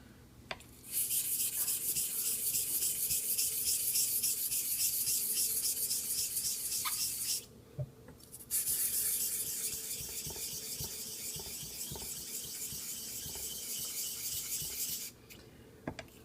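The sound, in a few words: honing a straight razor on a Japanese natural whetstone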